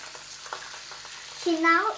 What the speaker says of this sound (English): Now she's giving fish for frying, and she's cooking it at her